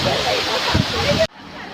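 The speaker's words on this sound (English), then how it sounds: "There are many levels of this waterfall, but you are only seeing one level." A multi-level waterfall roars as a loud, continuous broadband rush, with talk mixed in, before cutting off abruptly near the end.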